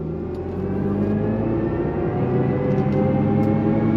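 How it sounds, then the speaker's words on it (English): A 2026 Chevrolet Silverado EV Trail Boss accelerates at full power, its synthesized drive sound a steady, swelling electric hum and rumble that grows louder over a few seconds with no talking. "I want to immediately go on throttle with you. We're going to activate full power. Get the sound effects."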